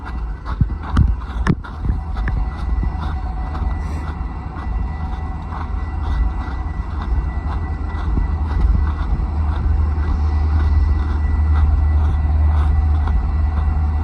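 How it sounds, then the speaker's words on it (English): A train rumbles past nearby, a steady low roar with rattling and clanks, loudest early on and holding heavy throughout. "Fucking train is noisy."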